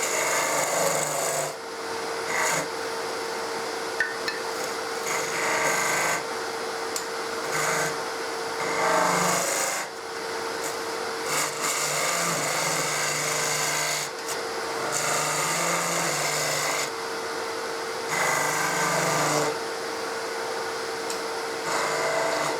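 A cove being cut into a wooden workpiece, repeated rasping strokes in bursts of a second or two, close and moderately loud with short pauses between strokes and no talking.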